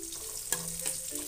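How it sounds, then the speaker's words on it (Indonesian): Sausages fry in a pan of hot oil, giving a steady close sizzle with occasional stirring clinks and no voices. "aku goreng lagi tuh sosisnya untuk tambahannya"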